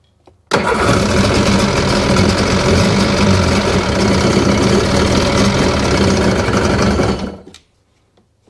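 A fuel-injected two-stroke Sea-Doo engine runs loud and steady at close range for about seven seconds, then cuts off abruptly, leaving near silence.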